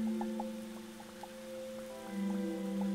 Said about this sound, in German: Höre ich hier auf der Tiefe tatsächlich den Regen oben?